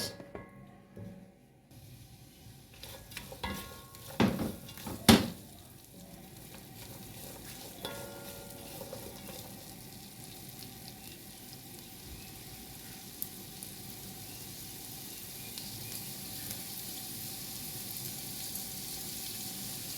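Sliced beef sausage cooks with red onion in a pan, a quiet continuous sizzle running steadily under a few sharp utensil knocks and stirring scrapes early on.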